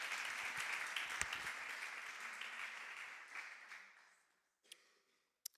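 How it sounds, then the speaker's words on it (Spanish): A church congregation gives a long round of applause after a sermon, dense clapping that gradually fades away to near silence, followed by a few isolated claps. "Puede darle un fuerte aplauso al Señor"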